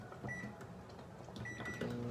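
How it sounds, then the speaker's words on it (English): A microwave oven heats a container of cold filtered water, producing a quiet steady hum with faint tonal whine and a few small clicks, close by and without speech. "I'm going to heat this up in the microwave to warm it up"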